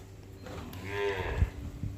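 A single low moo from an eight-month pregnant cow rises and fades in the middle, over quiet outdoor background sound in Sangli district, Maharashtra.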